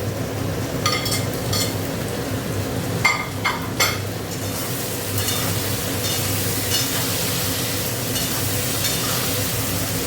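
Tomatoes frying in a pan, a continuous loud sizzle with a low steady rumble beneath and a few brief clatters of a utensil near the middle, close up with no talk.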